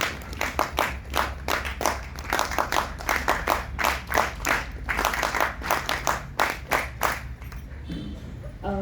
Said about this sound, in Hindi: सबसे पहले तो आप इनके लिए तालियां बजाइए जिन्होंने सबसे पहले हाथ उठाया